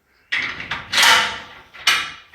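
A workshop door in a fabrication shop is pulled open, giving several sliding, scraping bursts with a longer rumbling slide in the middle, close by and fairly loud, with no voices.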